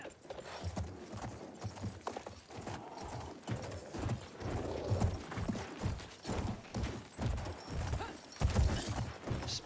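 Horse hooves gallop in Battlefield 1, a steady clip-clop rhythm of repeated strikes, fairly close and loud, with faint mechanical creaks and a brief whinny mixed in.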